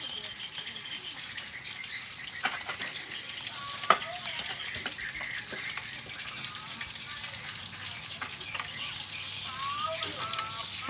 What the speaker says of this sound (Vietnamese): Cái Linh nấu canh chua lá me.